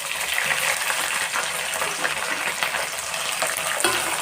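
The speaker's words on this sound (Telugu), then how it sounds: "సిమ్లో పెట్టుకొని వేయించుకోవాలి." Green chillies frying in a pan over a low flame, a dense continuous hissing sizzle that holds steady and fairly loud throughout, close up with no voices.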